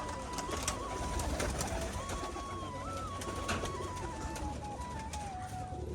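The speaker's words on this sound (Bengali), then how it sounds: "তো পায়রাগুলো এখন কিন্তু সবই ছেড়ে দেওয়া হয়েছে" Pigeons of the Giribaz breed coo and call continuously at close range after release from a farm loft, with a busy outdoor backdrop and some wing activity; no one speaks.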